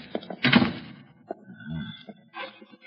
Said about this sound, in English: Hey, shut that door.